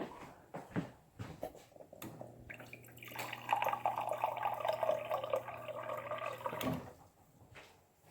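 Water is poured from a container into a cooking pot on a low burner, a steady splashing pour lasting several seconds, near and moderately loud, with a few small clinks before it.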